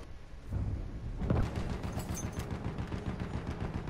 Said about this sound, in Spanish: ¡Ametralladora! ¡Apresúrense!